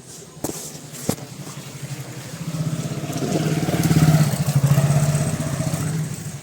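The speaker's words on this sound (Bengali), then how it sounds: "সুমনদার বাইক" A motorcycle engine idles and rumbles steadily nearby, its low throb swelling louder midway, with a couple of sharp knocks near the start.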